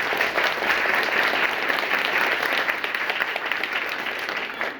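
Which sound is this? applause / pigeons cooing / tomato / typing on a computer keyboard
applause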